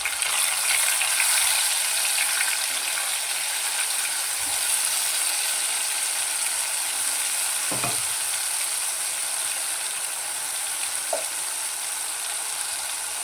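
Ground tomato paste and onions sauté in a pan for a yam fry, a steady close sizzle with an occasional faint scrape of stirring and no talk.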